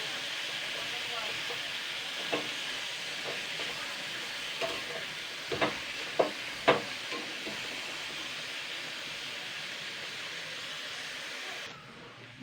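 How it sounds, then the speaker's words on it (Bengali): Small chopped shrimp fry in plenty of oil and are stirred in a pan, giving a steady soft sizzle with a few light scraping clicks from the stirring. No one speaks. "কিন্তু নাড়াচাড়া করে নেবো। এতে কিন্তু অনেকটা পরিমাণে তেল লাগে, কিন্তু তেলটা দিয়ে ভালো করে কিন্তু ভাজতে হবে।"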